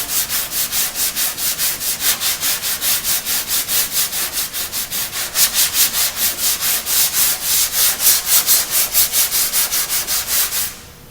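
Hand block sanding of Bondo body filler on a car body panel, a close, loud, steady back-and-forth rasp repeating at an even rhythm for about eleven seconds before stopping.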